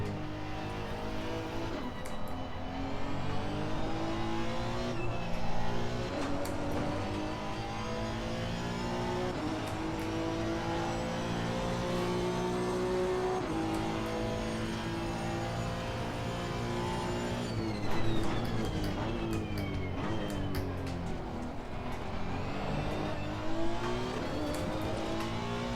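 Honda NSX race car engine on track in Assetto Corsa Competizione, a steady loud drone climbing and falling with gear changes, repeated upshifts and braking downshifts, occasional tire scrub, no voices.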